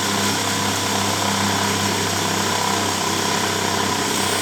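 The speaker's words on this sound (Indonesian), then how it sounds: "Nah ini arah putaran dari motornya udah agak pelan ya." Universal motor running on a lab test bench with added load resistance, a loud steady whirring hum throughout at close range, alone without talk.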